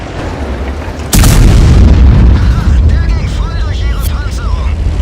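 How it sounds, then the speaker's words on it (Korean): A tank cannon fires with a sudden heavy boom in War Thunder, the Rheinmetall-Borsig tank destroyer's shot followed by a loud rumbling tail and scattered battle noise, with a voice talking over parts of it. "돌아서기 전에 내가 먼저 쏜다"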